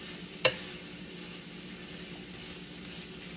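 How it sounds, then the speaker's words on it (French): Spinach simmers in a pan, giving a faint, steady low sizzle and bubbling throughout, broken early by a single sharp clink. "je vais laisser mijoter un peu, à peu près 3-4 minutes"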